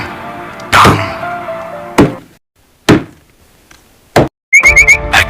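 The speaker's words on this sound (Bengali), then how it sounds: "কুড়ালের শব্দ ভেসে আসে" An axe strikes an old tree in a forest: four heavy, separate wooden thunks spaced about a second apart with ringing decay, followed by a brief burst of quick chirps.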